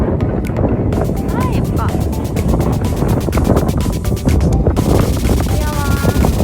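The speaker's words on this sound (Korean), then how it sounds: "오늘 바람이 너무 많이 불어서." Strong wind buffets and rumbles outdoors near a cafe, roaring steadily into the microphone. People talk over it.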